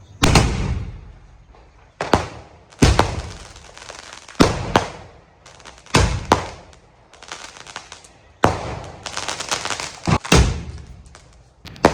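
Large Diwali sky-shot fireworks launching one after another, each a sharp loud thump followed by a crackling burst and fading tail, about a dozen reports spread irregularly across the stretch with no talk.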